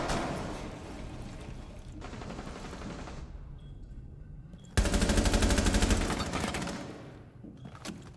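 Automatic weapon fire in a shooting video game: sustained rapid bursts of gunshots, a short lull, then a louder, denser burst that trails off, all close and with no talk over it.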